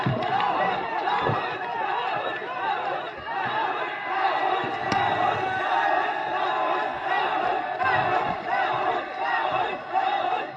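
A large crowd at an outdoor political rally in Jagdishpur, Amethi, welcoming Rahul Gandhi sends up continuous shouting and cheering, a broad, fairly distant roar with mixed voices and no distinct clapping.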